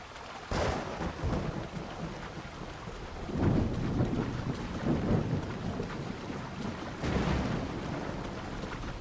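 Steady rain pours in Assassin's Creed Odyssey while rolls of thunder rumble through it, with sharper cracks near the start and again later, all under no speech.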